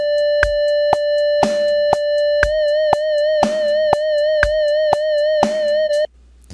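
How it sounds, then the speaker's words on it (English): A synthesized guitar note holds steady over regular clicks, then begins a smooth, even vibrato wobble that continues until it cuts off near the end; loud and close, with no talking. "Starting back here with no vibrato and then coming to the point of vibrato"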